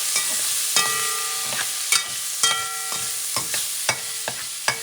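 Sofrito with cilantro caramelizes in oil in a pan, a continuous sizzle broken by about nine sharp, regular scraping stirs of a utensil, close and clear with no talking.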